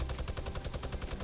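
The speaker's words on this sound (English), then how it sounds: "Ran in, got killed by a minigun." Minigun fire in Fortnite, a rapid, even stream of about a dozen rounds per second in one continuous burst, fairly loud and close with no talk.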